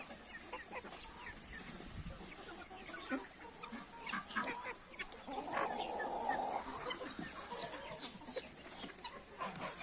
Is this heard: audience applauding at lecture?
no